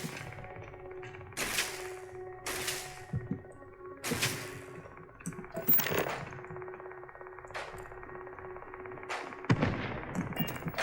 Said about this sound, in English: What are you shooting at, Ben?